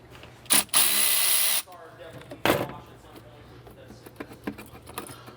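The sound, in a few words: undoing 10mm battery nut on Volvo XC90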